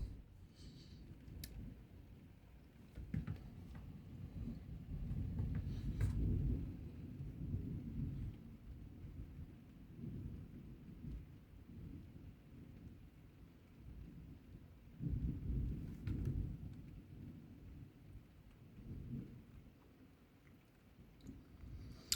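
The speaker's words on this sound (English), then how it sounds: "The thunder's over that way, the direction we're looking." Thunderstorm with thunder and heavy rain starting outdoors, heard as low rumbling swells that rise around the middle and again later over a steady wash of rain, fairly close and continuous with no talking.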